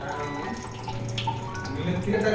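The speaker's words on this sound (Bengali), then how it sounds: "এবার একটা সাদা কাপড়ে নামিয়ে ঠান্ডা জল দিয়ে ধুয়ে দিতে হবে" Curdled milk, wrapped in a white cloth, is rinsed under cold running water: a steady splashing tap stream runs close by the whole time, with kitchen clatter and faint background voices mixed in.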